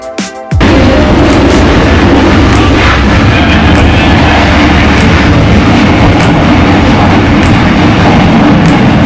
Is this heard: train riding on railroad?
yes